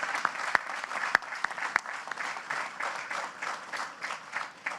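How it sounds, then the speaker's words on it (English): An outdoor crowd applauds at a groundbreaking ceremony with soft, dense clapping. A few sharp, nearby claps stand out now and then. "A round of applause for all three of these teams."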